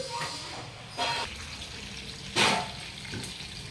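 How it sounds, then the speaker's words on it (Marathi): Soybean Manchurian balls frying in hot oil in a kadhai make a steady low sizzle, broken by a few louder spitting bursts as pieces go in or are stirred, heard close with no talking. "ते मी सगळे एकत्र करून तळून घेते त्याकडे कढई ठेवली"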